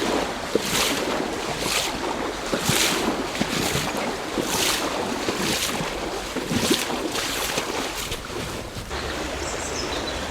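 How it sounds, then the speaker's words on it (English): Fast river water tumbling down a steep gradient over two or three boulders, a steady close rushing roar that fills the whole clip with no break, wind buffeting the microphone at times. "So the whole river's running down a gradient here. It's very quick."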